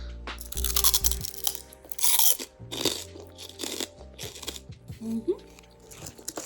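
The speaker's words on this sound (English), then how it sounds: "The skin crunchy." Close, crisp crunching and chewing of roasted pork skin in Bali, with irregular loud bites and crackles that come in bursts and brief pauses between them.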